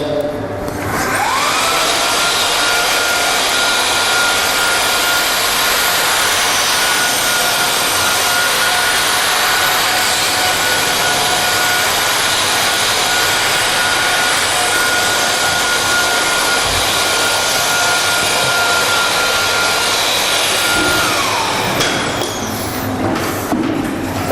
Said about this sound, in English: We need to vacuum the surface every time we are changing the pad